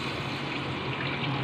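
A broth of lemon, pepper and water pours into a cooking pot as a continuous, close splashing stream that is even and steady throughout, with no voices.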